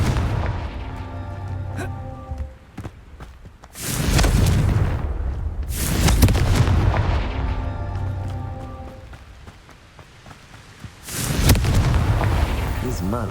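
Heavy booming blasts from a fire spell erupt in a video game, several loud explosions with rumbling tails spaced a few seconds apart over a low game soundtrack, with no talking.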